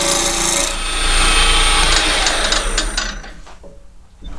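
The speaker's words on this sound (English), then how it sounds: "So I'm starting by turning it into a round cylinder." Wood spinning on a lathe as it is turned into a round cylinder, a loud close scraping and grinding of the tool against the wood that thins out and drops toward the end.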